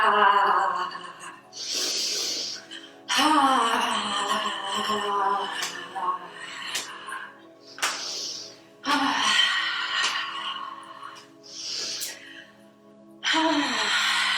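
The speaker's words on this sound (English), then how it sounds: "I'm breathing, sounding, toning," Forceful rhythmic breathing exercise with sharp, hissing breath bursts repeated roughly every few seconds, alternating with voiced toning and sounding, close and fairly loud.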